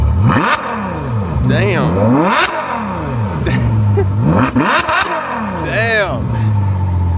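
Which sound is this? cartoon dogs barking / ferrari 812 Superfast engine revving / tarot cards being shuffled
ferrari 812 Superfast engine revving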